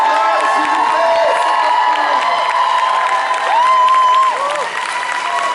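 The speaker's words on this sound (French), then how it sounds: "Levez-vous, faites du bruit, un tonnerre d'applaudissements pour Catherine" A fan festival crowd in Paris applauds and cheers loudly, with sustained clapping under high shouts and whoops throughout.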